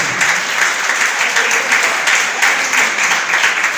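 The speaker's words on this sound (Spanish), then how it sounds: "Denle un aplauso al Señor" Sustained applause from a church congregation, dense and lively, with no voices over it.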